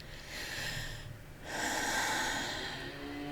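One person breathes in sharply in two long, airy gasps, the second stronger and more drawn out, close up with no talking.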